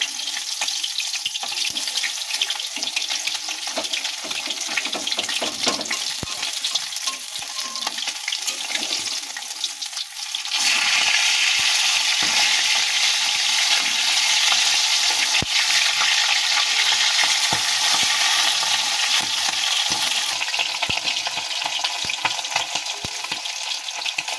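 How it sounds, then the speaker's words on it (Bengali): Fish frying until reddish brown in a kadai makes a constant hissing sizzle that swells louder about halfway through, as if freshly turned, then keeps crackling steadily with no talk. "এরকম লাল লাল করে ভেজে নিতে হবে"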